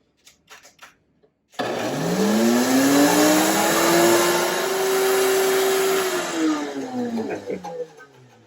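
A blender whirs steadily for several seconds, its motor pitch rising then settling, with a few brief clatters before and after.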